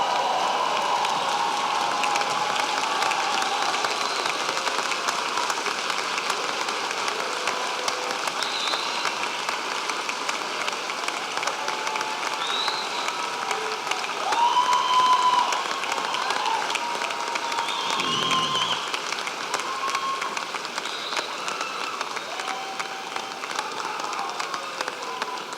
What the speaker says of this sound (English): Please, everyone stand and give them a round of applause.